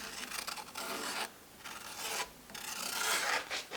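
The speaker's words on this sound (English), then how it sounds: "as I was sanding it down" A wooden acoustic guitar rosette is sanded by hand, giving steady abrasive rasping strokes in close, continuous bursts with short pauses between passes.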